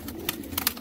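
A brief, low, soft cooing of a desi Amritsari pigeon with a few faint rustles, heard close by.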